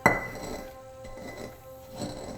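Grinding guacamole in a stone molcajete: a sharp clink at the start, then steady gritty scraping and rubbing, close and moderately loud.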